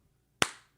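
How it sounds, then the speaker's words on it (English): One sharp, close hand clap rings out alone against silence, decaying quickly: the opening beat of a slow clap from an audience after a flute and guitar duo's set. "The slow clap."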